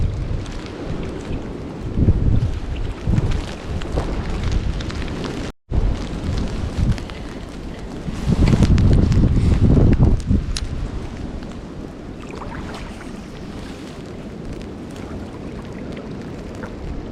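Strong wind gusting through a below-freezing snowstorm on a steelhead fishing river, a steady roaring rush buffeting the microphone with a louder surge partway through, no talking.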